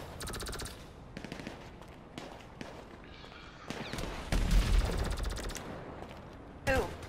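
Gunfire in GTA V: rapid automatic bursts and single shots at varying distances, with a louder sustained volley midway and a sharp burst near the end, over faint background game noise.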